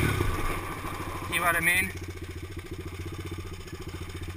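A Honda ATC200S three-wheeler's engine idles with a steady low, pulsing thrum, close and continuous, while someone speaks briefly over it early on.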